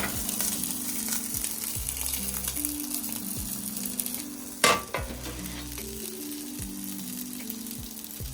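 Food sizzles and crackles steadily in a hot pan, with a brief clatter of utensils partway through; no voices.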